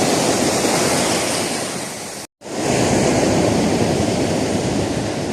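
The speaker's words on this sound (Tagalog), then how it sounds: "lakas na ng alon" Loud, steady roar of strong ocean waves crashing continuously, with a brief dropout partway through, then the surf resumes just as powerfully.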